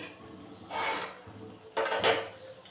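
Fried katla fish pieces being set into a pan of cooked masala, two soft clattering placements of the pieces against the cookware, close and moderately loud.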